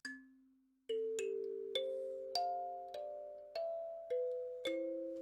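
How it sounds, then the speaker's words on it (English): Plucked kalimba tines ring out as a slow sequence of bell-like notes, each one sustaining and overlapping the next, played alone and close. "The kalimba sounds like this."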